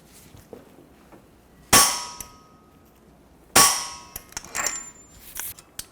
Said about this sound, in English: Using a bar to hold the hub still, I'm going to torque the axle nut to 216 foot-pounds.